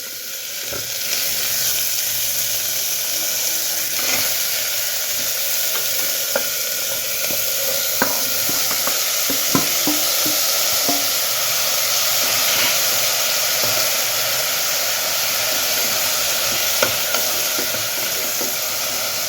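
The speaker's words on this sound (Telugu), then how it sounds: "సొరకాయ ముక్కలు తోటకూర కాడలు వేసుకుందాము వేసుకొని వేయించుకుందాము" Bottle gourd pieces and amaranth stems fry in a pan with a steady, hissing sizzle. It runs for nearly twenty seconds at a constant level, with occasional faint clinks and pops, and no one speaks.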